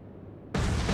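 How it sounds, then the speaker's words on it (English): A torpedo hit on a ship in the naval game Atlantic Fleet lands as a sudden, loud explosive blast that bursts out of a quiet rumble and roars on. "Looks good for some torpedo hits."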